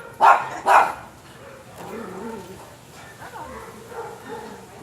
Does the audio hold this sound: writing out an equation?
no